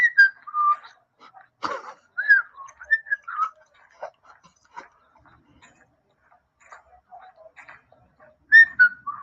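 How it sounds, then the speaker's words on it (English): A person whistling short melodic phrases with gaps of near silence between, plus a few sharp clicks and scuffs nearby. "He likes walking in the dark, whistling."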